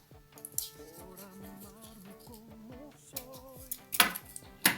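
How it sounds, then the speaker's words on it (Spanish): Scissors snipping a paper tab during a craft class, a series of quick crisp cuts and small clicks, close and fairly quiet, with a few sharper snaps near the end. "lo que hacen es con sus tijeras cortar un poquitito más la pestaña"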